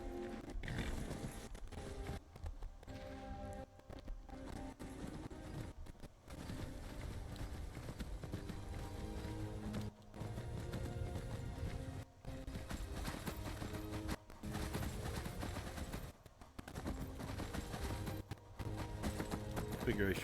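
Horse hooves clip-clopping at a steady rhythmic pace while riding in a video game, with game music and ambience underneath and someone talking over it.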